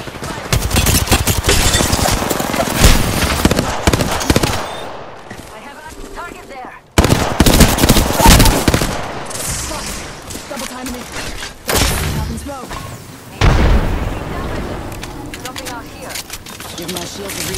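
Rapid automatic gunfire rattles through a sci-fi shooter firefight, bursts stopping and starting over about seventeen seconds with brief lulls, loud and close, while a voice calls out under the shooting.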